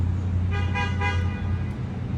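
A car horn sounds in road traffic, two short honks in quick succession rising above a steady low engine and road rumble heard from inside a vehicle.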